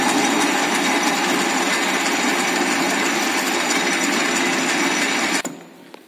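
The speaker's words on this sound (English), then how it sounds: "Now 2 operations are being completed, turning and facing." Metal lathe turning and facing a metal workpiece: a steady, loud whirring grind runs continuously, then cuts off sharply near the end, leaving a quieter machine hum.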